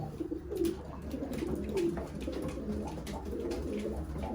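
Soft, low pigeon coos repeat a few times against a steady background hum and rustle.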